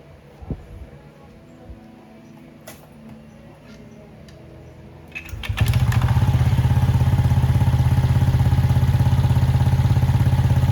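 A Click 125 scooter engine starts up midway and then runs loud and steady, a close, throbbing idle after a few earlier clicks and knocks.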